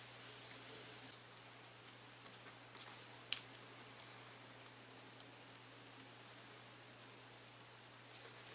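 Scissors snip through paper for a paper shadow box in a series of small, sharp cuts spaced about a second apart, with one louder snip, close and quiet against a low hum.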